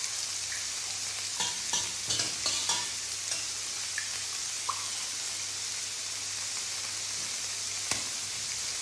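Stock goes into a paella negra pan and is stirred, giving a loud steady sizzle with scattered spoon scrapes and clinks over a low background hum, close and without talk.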